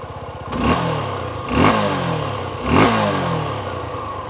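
A Suzuki V-Strom 250SX motorcycle engine, fitted with a one-press easy start system, is started and then revved three times in quick blips, each a rising then falling roar over a steady idle, close and loud with no talk.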